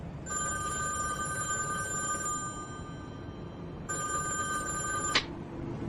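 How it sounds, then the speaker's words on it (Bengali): A telephone bell rings as a sound effect in a Bengali thriller audio story: two bursts of trilling electronic ringing, the second cut off abruptly, over a low steady room hiss. "এমন সময় টেলিফোন বেজে উঠল।"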